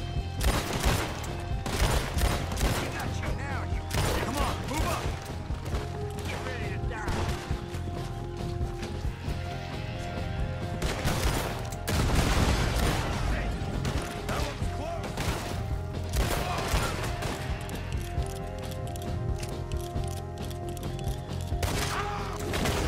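Rapid bursts of gunfire from a video game stealth mission crackle and clatter almost nonstop, loud and dense, with brief crashes mixed in and talk over the top.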